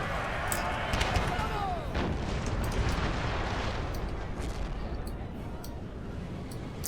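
Dragoon Guards cavalry firing shots at Nizam infantry in Napoleon Total War, a steady dense roar of distant gunfire and battle noise with scattered sharper cracks throughout.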